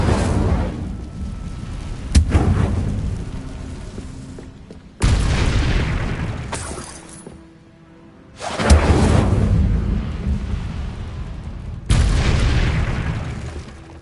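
Incendio fire spells cast in Hogwarts Legacy, four loud booming blasts a few seconds apart, each bursting sharply and then rolling off in a fiery rumble, with no talk over them.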